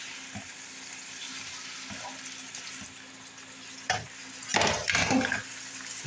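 Egg roll in a bowl cooks in a pan on the stove with a faint steady sizzle, then a few scraping stirs and louder clattering bursts near the end as the utensil works the pan.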